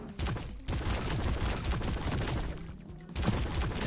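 Rapid bursts of gunfire hit an enemy in the sci-fi shooter game High on Life. The shots come as dense, loud, overlapping cracks with a brief lull near the end, and no talk is heard.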